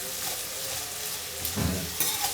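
Okra (lady's finger) cooking with salt in a pan, giving a steady soft sizzle and hiss of frying with a brief stirring scrape near the middle, close and continuous with no talk.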